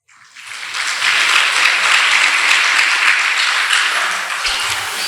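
Audience at a Brahma Kumaris morning class clapping for themselves, a burst of steady applause that swells in quickly and holds loud and dense for several seconds with no talk over it.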